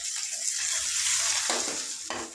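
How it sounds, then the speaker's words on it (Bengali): Raw onion fries in a pan after dried red chillies were toasted for a tilapia bharta, giving a loud, close, steady sizzle with a couple of scraping stirs near the end. "পেঁয়াজটাকে আমি একটু হালকা করে ভেজে নেব।"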